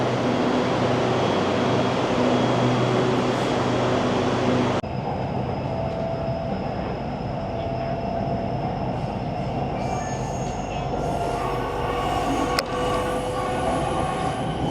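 A metro-style train in Bangkok, heading toward Don Mueang, rolls along the rails with a loud, continuous rumble, wheels squealing and faint metallic clicks over the running noise, no voices.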